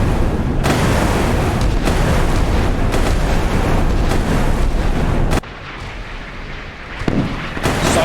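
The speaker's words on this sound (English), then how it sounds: "That's naval gunfire" Heavy naval gunfire in the game Sea Power, in a battle between an O.H. Perry frigate and a Krivak II frigate, booms repeatedly in dense bursts, loud and continuous, then eases into a quieter stretch broken by a few more blasts.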